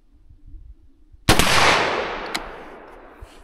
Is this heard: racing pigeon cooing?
no